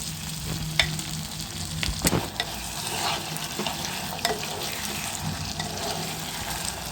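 Onions and tomatoes sauté in a pan for fish gravy, producing a steady, close sizzle with occasional sharp knocks and scrapes of a spoon stirring, with no talk.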